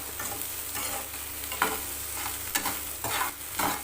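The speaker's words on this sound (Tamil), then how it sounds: "மசாலா போட்டு கொஞ்சம் நேரம் வதக்கிட்டு உப்பு போடுங்க" Masala sautéing in oil in a pan for a roasted okra tamarind curry, a steady close sizzle with intermittent scraping stirs from a spoon against the pan, no voices.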